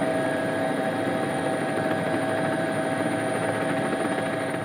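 Helicopter rotor and engine noise at the Safari Rally Kenya 2022, a steady loud drone with a constant whine, continuous and unbroken with no talk.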